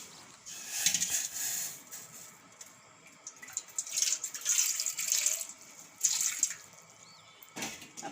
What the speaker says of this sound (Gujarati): અને પાણીને આપણે આમાં થોડું લઈ લેવું.